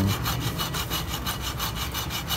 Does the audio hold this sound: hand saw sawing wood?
yes